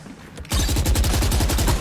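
A swarm grenade from a shooter game goes off in a burst of rapid, loud overlapping blasts that keep rattling for over a second after a brief quiet start.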